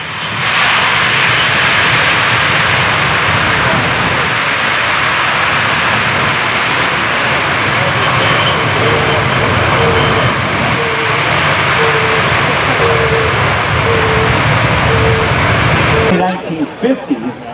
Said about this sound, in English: this will be about as much noise as this airplane is ever going to make